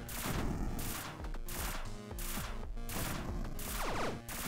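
Gunfire in the video game Rush Rover: rapid bursts of weapon fire with sharp repeated shots and crashing impacts, loud and close, in several clusters separated by short gaps, over electronic game sounds.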